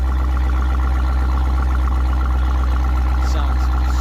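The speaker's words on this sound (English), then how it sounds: "This is the Borla Atak with stainless tips," A 2021 Dodge Durango Hellcat fitted with a Borla Atak exhaust with stainless tips idles close by, producing a deep, steady, loud rumble that holds constant with no revving.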